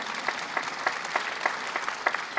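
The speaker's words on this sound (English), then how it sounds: "you can applaud the costumes." Light applause from an audience at a film premiere Q&A in Los Angeles, a thin steady patter of clapping with a few sharper claps standing out.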